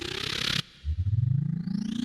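A reversed, heavily EQ'd hand dryer recording run through a chopper effect gives a pulsing, rapidly gated rumble that rises steadily in pitch after a brief gap, loud and close.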